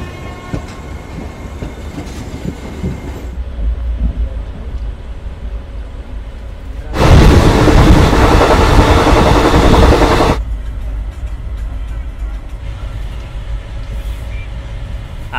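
A passenger train departing Howrah station, heard from inside a coach, gives a steady rumble and rattle on the tracks, with a sudden, much louder rushing roar for a few seconds in the middle before settling back to the constant clatter.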